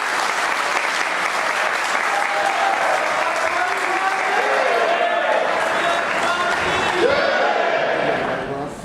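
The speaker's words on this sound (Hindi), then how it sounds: "एक बार इनके लिए जोरदार तालियां।" Enthusiastic audience applause at an event honoring Dr Ravi R Kumar, loud sustained clapping from a large crowd, with a voice talking over it and the clapping tapering off at the close.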